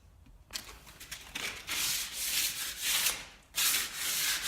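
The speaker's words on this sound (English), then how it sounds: "Once we're sure we've finished scratching the timber, we'll just dust it off." Pre-painted timber is sanded and scratched by hand in close, rasping back-and-forth strokes that come in steady bursts with brief pauses between them.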